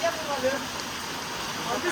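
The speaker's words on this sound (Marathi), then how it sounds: "आता पाऊस पडतो बघा" Rain pours in a steady, washing hiss during a haldi ceremony, with faint voices and a brief high tone drifting over it.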